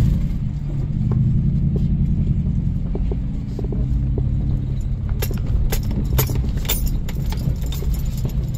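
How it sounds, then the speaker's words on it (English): Car driving around a construction site, with a steady low engine and road rumble and faint rattles and clinks from inside the cabin, getting busier toward the end. "I'll just pull over here and take you on a drive around"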